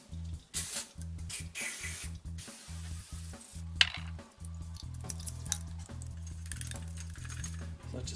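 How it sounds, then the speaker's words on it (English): Evaporating parts cleaner is sprayed in short hissing bursts onto a machine part over a steady low mechanical hum. "I've got some evaporating parts cleaner here, so I'm just going to give it a good spray."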